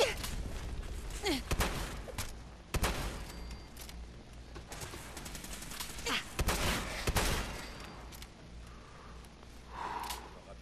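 Institute pistol gunfire in Fallout 4, sharp bursts of shots cracking out in irregular clusters, fairly close and loud, with a few brief breathy noises in between.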